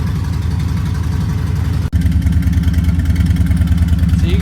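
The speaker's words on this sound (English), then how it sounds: "I'll rev it up a little bit just because it's cold right now." A 2024 Harley-Davidson Street Bob fitted with a TBR 2-into-1 exhaust idles loudly with a deep, lumpy low-pitched rumble, briefly cuts out, then settles into a steadier, slightly raised throttle up close while cold.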